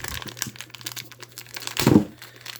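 Someone opens a taped cardboard box holding a Kicker 800-watt Class D amplifier, with close crinkling, scraping and a sharper tearing crackle near the end, short and nearby with no talking.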